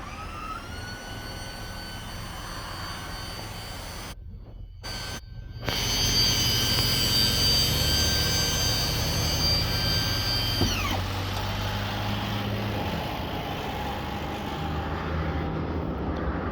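A 2022 Daihatsu mini dump truck with a snow plow, 3-inch lift and ATV tires runs its hydraulic bed: a steady engine drone with a whining pump tone grows louder partway through, then the pitch drops as the bed lowers and powers back up.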